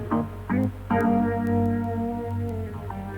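Electric guitar through a phasing unit: three plucked notes in quick succession, the last left ringing out with a soft sweeping shimmer as it decays, close and unaccompanied.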